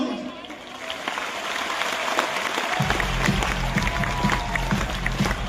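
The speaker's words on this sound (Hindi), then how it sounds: "दोस्तों जोरदार तालियां" Steady audience applause fills a business testimony event, a dense wash of clapping sustained throughout, joined midway by a low pulsing music beat and a voice underneath.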